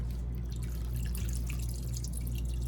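Water trickles and drips faintly into a blender over a steady low hum that runs the whole time.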